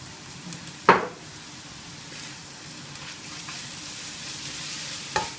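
Rice stir-fried in a pan with prawns, salt, pepper and soy sauce sizzles steadily throughout, with a sharp scrape or clank near the start and a lighter knock near the end.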